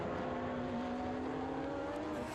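Ferrari 458 GT race car driving at Virginia International Raceway during an International GT race, its engine droning steadily at a sustained pitch, heard at a distance as a continuous, moderately loud hum.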